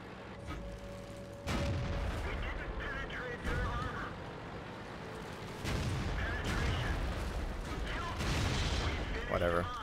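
Tank cannon shots in World of Tanks, heavy booming blasts landing around 1.5, 5.6 and 8.5 seconds over constant engine rumble, with other loud game impacts in between.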